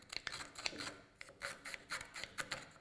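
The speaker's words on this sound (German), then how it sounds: "verwende wieder mein Zirchmesser und schnitze das da weg" A carving knife shaving away wood to fit an axe handle, producing quick, close, rasping strokes in short irregular bursts with brief gaps between cuts.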